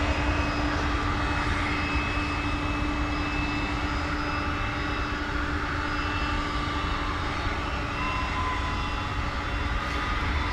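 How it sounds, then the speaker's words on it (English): Tri-jet airliner engines at DFW Airport, a loud, steady roar with a faint tonal whine that holds throughout without fading, with no voices. "a tri-jet in action."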